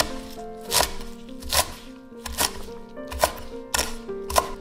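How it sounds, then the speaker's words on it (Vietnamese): Fresh herbs such as culantro, basil or Vietnamese coriander chopped finely with a knife on a board, about six crisp, evenly spaced thuds with faint background hum and no talking. "Mình cũng cắt nhuyễn ra luôn."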